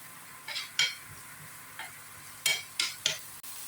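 Curry leaves tempering in butter in a pan, giving a steady low sizzle broken by several short bursts of spoon scraping and stirring against the metal.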